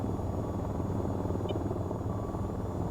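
An AH-94 attack helicopter flying over mountains in VTOL VR gives off a constant loud rotor drone with a low pulsing buzz and a thin steady high whine, unbroken and heard alone.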